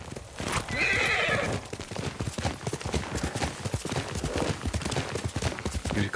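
Horse hooves clip-clop steadily in the Ghost of Tsushima video game, with a loud whinny near the start, all close and fairly loud with no talk over it.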